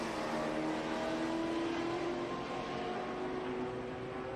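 A Ford Taurus race car at Watkins Glen drones past with a steady engine roar and shifting pitch. The engine holds fairly loud throughout, heard at some distance with no talk over it.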